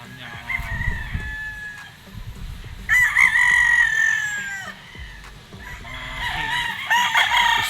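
A Harold Brown Gray gamecock rooster with a straight comb crows loudly and close several times, with clucking and other farm fowl calling around it.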